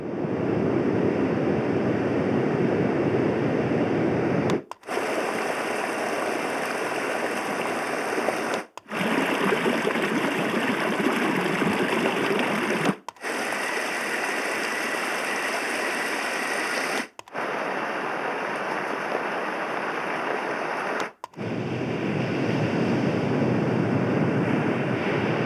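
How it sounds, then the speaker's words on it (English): Water-themed tracks play from a Sound Plus Sleep Aquarius white noise machine, a steady broadband wash like surf or flowing water heard close. It runs in five segments, each cut by a brief gap of silence. "When it first came out, I had high hopes because it only has water-themed tracks."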